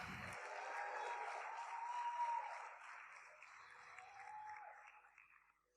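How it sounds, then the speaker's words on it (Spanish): A church congregation claps during a morning service, a faint steady patter of many hands that slowly fades, with a few cheering shouts over it. "¿Le podemos dar un aplauso a Dios fuerte en esta mañana?"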